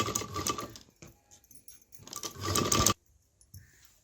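A domestic sewing machine runs in two bursts while double stitching the fall onto a saree edge, a close rapid whirring with a short pause between runs and quiet handling afterward.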